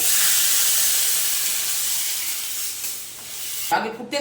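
Water poured into a hot pan while cooking Bengali dudh shukto hisses loudly at once, then the steam gradually softens before a brief clatter of utensils ends it.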